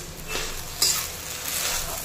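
Milk poured into a pan of hot sabudana khichdi brings a soft steady sizzle with light stirring, and a sharper hiss flares briefly near the middle before settling back to a gentle fry.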